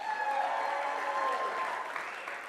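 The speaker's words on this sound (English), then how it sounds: "Will you guys give a big round of applause for our band?" An audience applauds a band at a live concert, a steady, dense wash of clapping that holds level for a couple of seconds and then begins to fade slightly.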